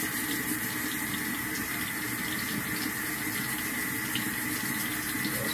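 Warm water runs steadily from a tap into a denture cup, a constant splashing rush that stays even and close throughout.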